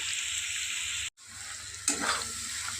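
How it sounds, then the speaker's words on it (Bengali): Egg and potato fry on high flame in a pan, a dense continuous hiss and crackle that breaks off for an instant, then returns with a brief stirring scrape. "ডিমটা দিয়ে খুব ভালো করে ভেজে নিয়েছি"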